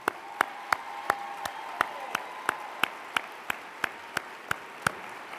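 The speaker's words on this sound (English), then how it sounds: "Please give John a round of applause." Slow, evenly spaced claps, about fifteen sharp, fairly faint hits in a steady beat, sound out in a conference hall at a charter school summit, with no one speaking.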